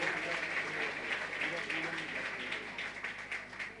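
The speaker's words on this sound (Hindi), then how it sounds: "जरा देखो तो जोरदार ताली बजाओ उनके लिए" Loud, sustained applause from an audience filling a hall at a Jain Paryushan festival camp in Silwani, a dense steady clatter of many hands that thins slightly toward the end.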